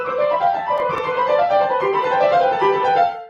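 Solo piano plays a brisk Hanon-style exercise figure within a piece, a quick stream of clear, evenly spaced notes that ring steadily for a few seconds with no talking.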